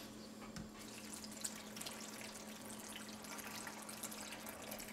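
Water pours steadily into a blender for a smoothie with a continuous soft splashing rush, fairly quiet and close.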